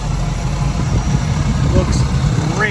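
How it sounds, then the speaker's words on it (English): A 1967 Chevrolet Camaro with a four-barrel carburetor idles close by with a steady, low rumble, while someone talks over it. "Engine sounds fantastic and does drive fantastic."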